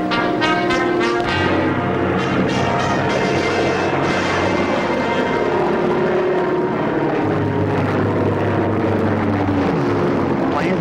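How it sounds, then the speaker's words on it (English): Allied Air Force warplanes in World War II fly overhead with a continuous loud droning propeller roar, steady throughout, with no speech. "Planes of the Allied Air Force bombed German positions along a narrow front at San Lo"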